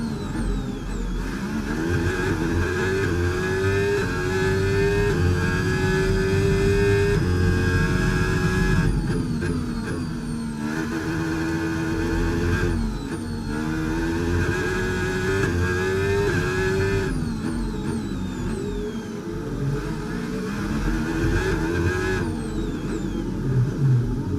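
An F1 race car engine in F1 25 at the Monaco GP screams through repeated rising and falling gear changes as it accelerates, loud and close for the whole stretch with no talk.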